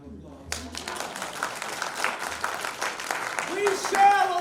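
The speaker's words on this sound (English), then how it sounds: "Give yourselves a round of applause." Audience applause at a Black history storytelling program in Markham, following a group rendition of "We Shall Overcome"; a sustained, moderately loud clapping wash that swells toward the end, with voices mixed in.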